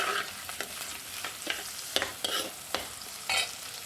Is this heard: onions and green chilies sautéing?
yes